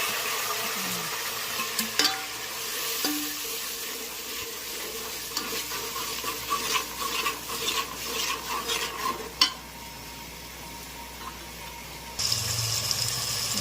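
Grated cabbage sizzles and hisses in a hot pan, with occasional scraping stirs and a soft clatter near the end; no one speaks.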